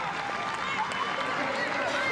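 Stadium crowd at a Super Rugby Aupiki women's match, Matatū versus Hurricanes Poua, cheering and roaring steadily after a try, a broad distant wash of noise under a commentator talking.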